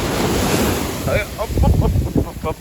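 Sea waves breaking and surging on a beach, a loud continuous roar with heavy wind buffeting the microphone, faint voices in the background.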